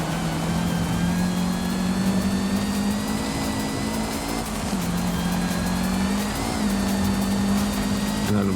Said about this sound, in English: And an obnoxiously loud supercharger on this too